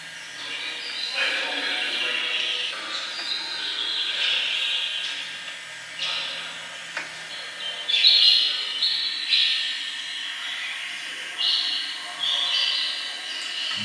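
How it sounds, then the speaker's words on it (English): Birds chirping outside a prison block in Richmond, Virginia, scattered high tweets and calls at moderate distance over a faint hissing background, no speech. "Birds everywhere."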